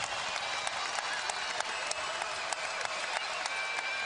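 Basketball arena crowd during a Xavier vs Butler game, a sustained wash of cheering and applause with scattered sharp claps, steady and moderately loud across the whole stretch with no talk.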